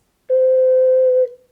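A low C sounded on an STL ocarina with all fingers and the thumb covering the holes, a steady, pure, breathy tone held for about a second before fading out, alone and close.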